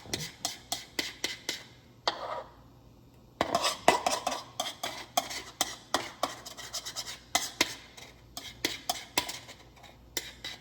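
Repeated scraping of body butter out of a container, a quick series of sharp utensil scrapes and clinks against the container, close and irregular, with a brief pause partway through.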